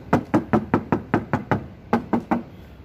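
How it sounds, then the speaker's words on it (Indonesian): Knuckles rap the metal body of a Daihatsu Taft Rocky 4x4, about a dozen crisp, evenly spaced knocks close up, with a short pause before the last few. "Oke teman-teman, kita ketok bodinya."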